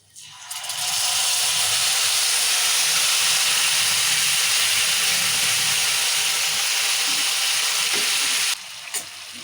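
Thick tamarind extract poured into a hot pan for pulihora, erupting into a loud, steady, close sizzle and hiss that holds for several seconds before easing slightly.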